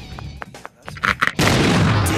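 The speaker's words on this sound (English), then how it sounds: "To use the propulsion of a rocket explosion to jump higher than ordinarily possible." A rocket explosion from a video-game rocket jump: a loud, sustained roaring blast that bursts in partway through and fills the rest of the clip, after a run of short pops and bumps.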